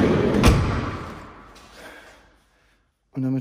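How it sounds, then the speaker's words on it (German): Another door on a CNG-powered VW T5 van thumps shut nearby in a single solid slam that fades out into silence, before a voice starts speaking at the end. "Und auch diese Tür mache ich einfach zu."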